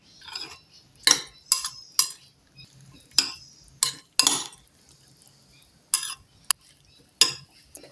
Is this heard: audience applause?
no